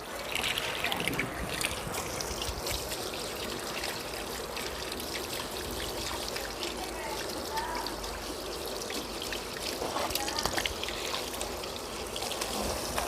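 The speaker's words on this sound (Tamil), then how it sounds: "இதை வந்து நீங்கள் தண்ணியில் வாஷ் பண்ணிக்கோங்க." An AC air filter gets rinsed in running water, a continuous trickling and splashing stream that stays close and even throughout with occasional rustling of the dusty filter.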